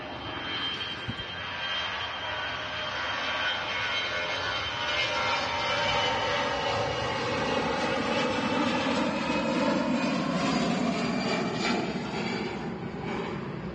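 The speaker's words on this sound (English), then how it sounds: "Lufthansa on the roll, heading out to Frankfurt" A Lufthansa jet airliner rolls for takeoff at Manchester Airport bound for Frankfurt, its engine roar swelling steadily louder with rising and shifting whine tones as it accelerates, close and unbroken without speech.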